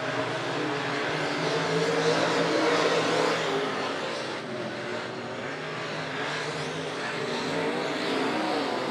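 Race cars circle a dirt oval at Monett Motor Speedway just after the green flag, a dense continuous roar of several engines at a distance, steady and unbroken with no voices over it.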